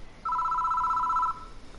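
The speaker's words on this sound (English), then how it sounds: "The phone begins to ring." A telephone rings in the horror video game Death Mark: a single steady electronic ring, loud and close, lasting about a second over a quiet room-tone background, with no talking.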